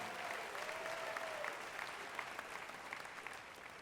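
A crowd at a Black Music Walk of Fame induction ceremony in Cincinnati applauds Commissioner Reese, a steady, fairly distant wash of clapping with a brief faint tone partway through.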